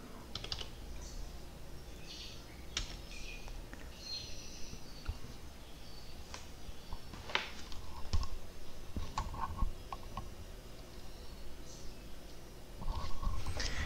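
Typing on a computer keyboard while editing in Kdenlive on Windows 10, a steady run of light, close key clicks with scattered louder taps, continuing throughout at moderate volume.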